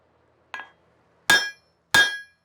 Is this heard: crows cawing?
no